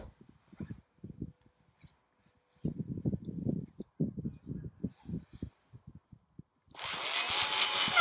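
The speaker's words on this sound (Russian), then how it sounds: "Временно собираем на саморез." A power screwdriver drives self-tapping screws into a beam of a large 11 by 20 metre greenhouse frame, with quiet handling knocks and talk first, then a loud, close, sustained whine at the end.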